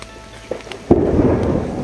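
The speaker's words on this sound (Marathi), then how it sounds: "खूप गरजत आहे, खूप." Thunder breaks with a sudden loud crack and rolls on as a low rumble during rain, heard outdoors after a few faint knocks.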